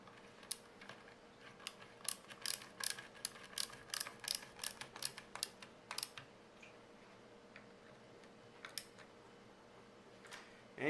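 T20 bit turning screws into a Marlin Model 60 rifle, heard as a run of small, close, irregular ratcheting clicks and ticks in a quiet room.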